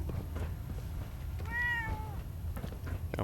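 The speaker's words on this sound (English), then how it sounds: "Meow to you too." A single cat meow in the video game Fallout 4, a short rising-then-falling cry heard clearly over a steady low game ambience.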